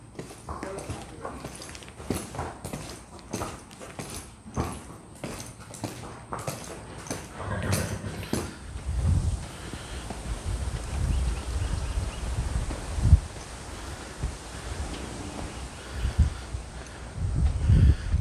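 A horse led at a walk just after its saddle is tightened, hooves clip-clopping in a steady rhythm early on, then fading under rustling, wind and low thumping handling noise.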